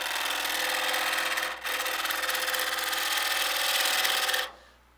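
A gouge cutting spinning wood on a lathe, a steady loud broadband hiss and rasp with one brief dip partway through, then cutting off abruptly before the end.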